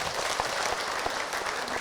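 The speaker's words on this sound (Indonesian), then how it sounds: "Tepuk tangan buat Ibu Junaina" Applause for a speaker at an Islamic religious talk event, a steady, dense clapping from an audience filling the whole short stretch, moderately loud and without pauses.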